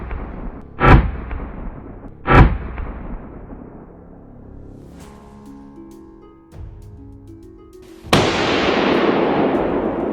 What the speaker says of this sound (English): The moment the boar crossed my line of sight, a single, sharp shot rang out